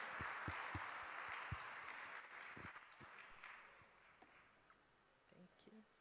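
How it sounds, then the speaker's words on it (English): A conference audience at an international PEN-Plus meeting on non-communicable diseases applauds its panelists: faint, distant, steady clapping that gradually fades, with a few voices near the end. "let's all stand and give a round of applause to our panelists"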